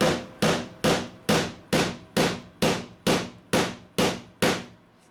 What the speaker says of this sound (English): by hammering it back flat